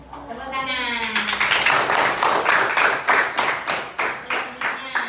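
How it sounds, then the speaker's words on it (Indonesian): A class of children claps in a school lesson, a rapid run of loud, close, uneven claps. A voice speaks briefly just before the clapping starts. "Tepuk tangan."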